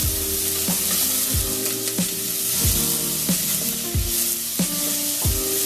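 Four stalks of chopped celery sautéing in a pan, a steady loud sizzle punctuated by regular sharp scrapes of a spoon or spatula every half second or so, close up with no voices.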